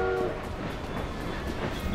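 A steam-era train rolling along in the Assassin's Creed Syndicate video game, a continuous rumbling clatter of wheels with rhythmic bursts of chuffing, heard close and steady with no talk over it.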